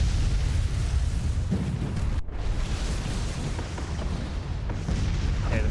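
Missile fire and explosions rumble through a Master of Orion space battle video game, a dense, continuous barrage of booms and bursts with no clear pauses.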